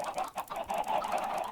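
Chickens cluck and murmur in the video game Stony Shore, a close, continuous flurry of overlapping clucks with no talking.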